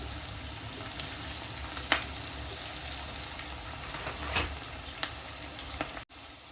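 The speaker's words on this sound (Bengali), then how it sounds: "পেঁয়াজগুলো একটু ভেজে নিব।" Onions frying in a pan for a hilsa fish curry with potato and eggplant, along with green chillies and salt: a steady crackling sizzle with occasional louder pops and stirs, close, ending in a brief cut.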